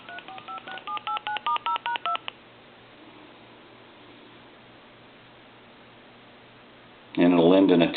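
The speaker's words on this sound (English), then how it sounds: "I want to hit redial" A foreign desk-style telephone redials, a rapid string of keypad tones beeping out a number, followed by a few seconds of hiss, then a burst of ringing tone.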